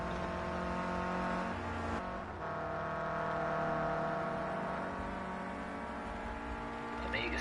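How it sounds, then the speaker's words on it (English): Clio Cup race cars at Brands Hatch Indy circuit, engines droning and revving in the distance under a commentator's continuous talk, with a brief dip midway before the engine noise swells again. "A couple of cars going off in the distance there."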